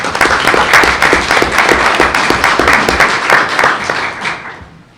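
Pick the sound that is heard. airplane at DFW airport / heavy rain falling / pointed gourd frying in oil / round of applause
round of applause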